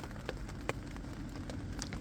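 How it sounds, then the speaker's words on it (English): Steady rain patters on a campsite through the night, a soft, even hiss with occasional sharper drops landing close by, continuous and without voices. "I think this rain is definitely going to be on for the night"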